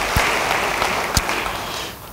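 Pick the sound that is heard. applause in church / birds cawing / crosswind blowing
applause in church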